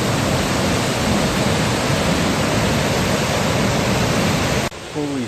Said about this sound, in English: so we are on our second waterfall now